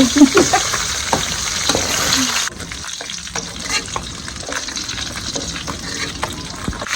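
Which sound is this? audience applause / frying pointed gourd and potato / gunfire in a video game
frying pointed gourd and potato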